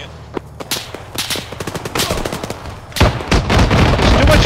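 Gunfire in the video game Scabbard, with rapid bursts of loud sharp shots and some single cracks, growing denser and heavier toward the end.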